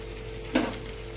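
Vegetables with salt and turmeric sizzling in a wok, a steady hiss with one brief scrape or stir near the middle, close and moderately loud, no talk.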